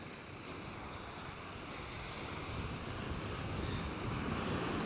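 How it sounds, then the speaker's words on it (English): Ocean waves wash steadily onto the beach at Coney Island, a continuous broad surf roar mixed with wind, with no voices over it. "The waves are doing great."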